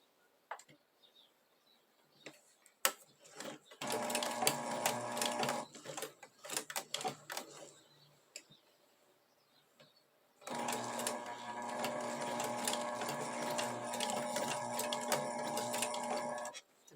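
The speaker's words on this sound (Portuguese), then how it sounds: "a gente tem que fazer a costura devagar" Sewing machine stitching slowly, with two sustained runs of steady mechanical whirring and clatter, separated by a gap of scattered clicks and handling noise, close by.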